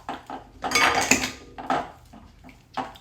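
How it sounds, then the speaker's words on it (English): A utensil stirring seasoning in a bowl for a chickpea salad sauce, close clinks and scrapes of metal against the dish in a few uneven bursts. "So I'm just going to stir the seasoning in to make kind of a sauce"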